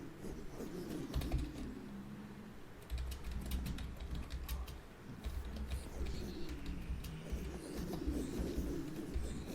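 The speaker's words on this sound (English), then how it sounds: "let's type that in so I remember" Someone types on a computer keyboard in fast, continuous runs of close, light key clicks, broken by a couple of short pauses, with no talking.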